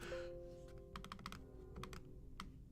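Typing on a computer keyboard while entering numbers into an Excel spreadsheet, a quiet run of quick key taps in short uneven bursts, close and faint.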